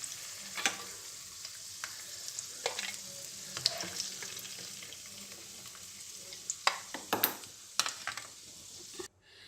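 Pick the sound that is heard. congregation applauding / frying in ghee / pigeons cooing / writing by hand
frying in ghee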